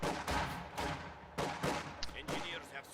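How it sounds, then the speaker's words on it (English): Grenadier squads open fire at range in a strategy video game battle, a series of heavy, rumbling gunfire bursts and explosive cracks that overlap one another in a loud, steady barrage. "Grenadiers firing from range"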